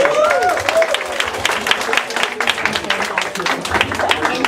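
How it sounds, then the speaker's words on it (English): An audience at a Filipino community closing program and awards ceremony in Seoul claps, with dense, fairly close applause mixed with crowd noise and some talking over it. "Let's give a round of applause to Sir Rodrigo and"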